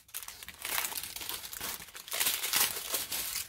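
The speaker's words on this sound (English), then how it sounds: "So I am just going to take my scissors. I am going to cut this bag off of here." A plastic bag on a Dollarama diamond painting kit crinkles as scissors cut it open, with soft rustling bursts close by and no talk.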